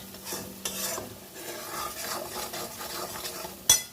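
Turmeric, Kashmiri chilli and ground cumin-coriander sizzle in oil as they are stirred for a vegetarian masala potato curry, with steady scraping strokes close up and a sharp clink of utensil near the end.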